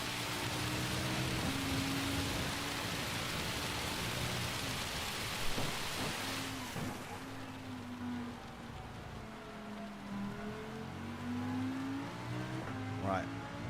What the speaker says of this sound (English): Oh, here comes another burst of rain.